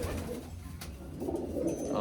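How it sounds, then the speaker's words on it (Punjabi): Pigeons perched nearby coo softly in low, throaty murmurs, with a faint background hum and a brief click in the middle of the short stretch. "ਇੱਧਰ ਬੈਠੇ ਆ ਕਬੂਤਰ ਆ"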